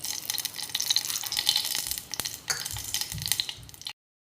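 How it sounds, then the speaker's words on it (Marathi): Cooking oil poured into a pressure cooker for a chickpea ghugri, a soft close trickle and light sizzling over a few seconds with no talk. "आता त्याच्यात मी तेल टाकून घेते"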